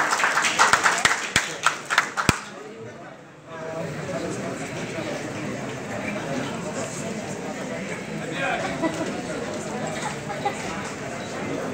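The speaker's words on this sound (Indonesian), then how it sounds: "Kita berikan tepuk tangan sekali lagi Bapak Ibu terhormat." At an inauguration ceremony for a legal aid board, a few sharp scattered claps ring out in the opening seconds, then give way to a murmur of voices and talk filling the room.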